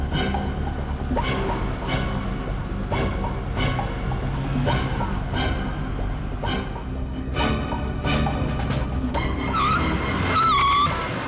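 Car on a road braking hard with tire skid and squeal, engine and road noise under a dramatic music score, ending in a sharp screech near the end; no talking.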